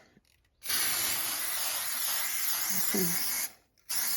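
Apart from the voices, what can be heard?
spray painting a door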